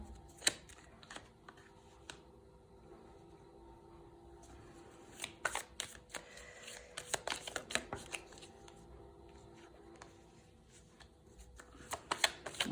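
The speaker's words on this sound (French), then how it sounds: "Les cartes, elles tombent les unes après les autres." Tarot cards are shuffled and laid down one after another, giving quiet scattered riffles and soft slaps, sparse at first and then bunching into quicker bursts.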